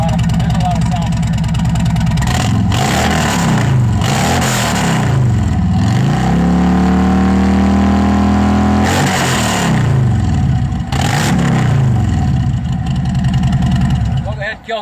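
Harley-Davidson Milwaukee Eight V-twin with Toxic Outlaw slip-on exhaust on a 2017 bike, idling with a loud, lumpy rhythmic rumble, briefly blipped so the pitch rises and falls, then settling back to a steady close idle.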